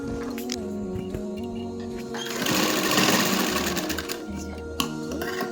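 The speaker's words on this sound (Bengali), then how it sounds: "হ্যাঁ হ্যাঁ, আমি এটা সেলাই করব।" Sewing machine stitching fabric for a gopi dress, a steady close mechanical whirr in bursts that speeds up in the middle, with no voices.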